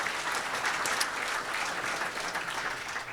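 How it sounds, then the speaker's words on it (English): A dense, steady wash of audience applause at a State of the City chamber event, many hands clapping at once for the hosts of the facility, sustained and fairly loud throughout with no talking over it. "Let's give them a round of applause for hosting us here."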